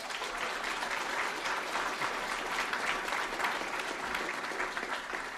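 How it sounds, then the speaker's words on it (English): An audience at a free-speech talk applauds in a steady, full, continuous wash of clapping that holds at an even level throughout. "after applause like that"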